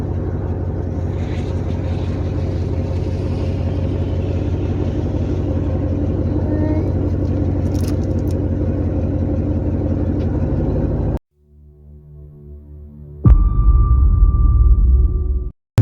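Steady engine drone inside a moving service truck, loud and continuous with a low rumble for about eleven seconds, a brief drop to near silence, then a louder, harsher engine hum returning to the end.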